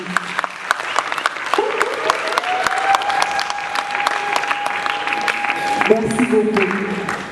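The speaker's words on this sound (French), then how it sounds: "je crois vraiment que les parents doivent applaudir très fort pour les finalistes." Parents applauding finalists at a 2022 Exetat certificate ceremony, a steady patter of many hands clapping for several seconds, with a voice speaking over it toward the end.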